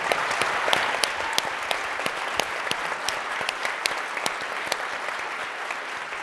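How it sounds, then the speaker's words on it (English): An audience at the close of a policy event on AI and biotechnology applauds steadily. Sharp individual claps stand out over a dense, even wash of clapping that holds at moderate volume throughout. "A round of applause for them."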